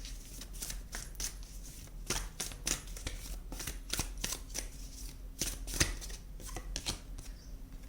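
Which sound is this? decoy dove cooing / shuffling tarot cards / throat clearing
shuffling tarot cards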